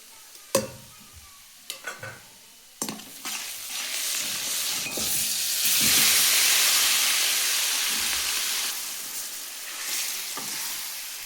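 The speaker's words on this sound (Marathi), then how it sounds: "तेल तापले आता मसाला टाकून घेते" A few sharp clinks, then a loud sizzling hiss rises and holds steady as spices fry in hot oil in a kadai for chicken curry, with occasional stirring scrapes.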